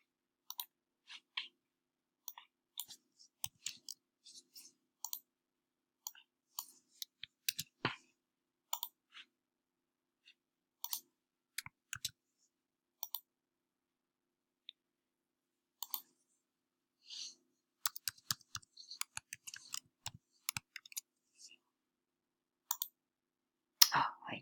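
Scattered, quiet keystrokes on a computer keyboard come in short bursts with pauses, like someone entering login details in a silent room.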